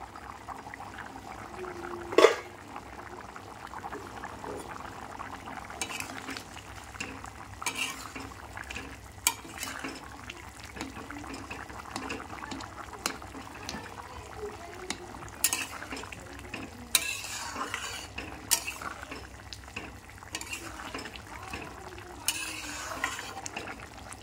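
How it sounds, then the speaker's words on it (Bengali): A simmering vegetable curry being stirred in a pot with a metal spoon. Soft scraping and clinking come at irregular intervals, with one sharp clank near the start, over a quiet steady background and no speech. "একটু নাড়বো তরকারিটা"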